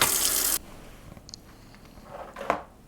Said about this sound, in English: I'm putting 2 tablespoons of flax meal and 6 tablespoons of water